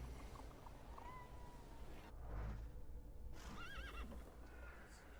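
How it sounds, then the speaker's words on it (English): Horse neighing in a video game, a whinnying call with rising and falling pitch over a constant outdoor ambience, followed by a second shorter whinny. "I meant to take the horse out for a ride"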